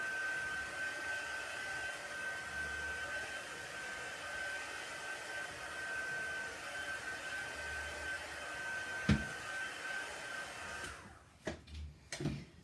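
A hair dryer blows with a steady, broadband whooshing roar for most of the clip, then cuts off near the end, leaving a few brief knocks.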